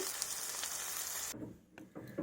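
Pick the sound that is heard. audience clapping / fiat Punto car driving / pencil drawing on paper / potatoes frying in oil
potatoes frying in oil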